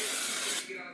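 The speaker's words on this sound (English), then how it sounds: "we are going to spray the Pam onto our pan" Pam cooking spray hisses from an aerosol can onto a baking pan, a steady close spray burst lasting most of the moment before tapering off.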